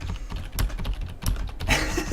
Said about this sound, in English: I can hear the hammering of the keyboard